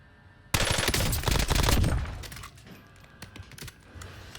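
Automatic fire from the MK35 ISR rifle in a first-person shooter game, a loud rapid burst lasting about two seconds, followed by a few scattered single shots and mechanical clicks fading out.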